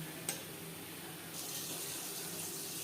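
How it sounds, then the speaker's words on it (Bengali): Water used to rinse spices is poured into a pan of Bhola fish curry, a soft steady splashing stream that swells partway through, quiet and close with a brief clink near the start, no talking. "আর দিয়ে দেবো মশলা ধোয়া জল যাতে পুরো মশলাটাই অ্যাড করতে পারি"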